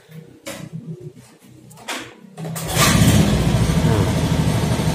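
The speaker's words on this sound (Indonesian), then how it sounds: "Coba saya starter dulu ya" A Honda Beat FI scooter with a faulty crankshaft position sensor and weak power: sputtering starter cranking and brief catches, then the engine fires at about three seconds and settles into a steady, loud idle.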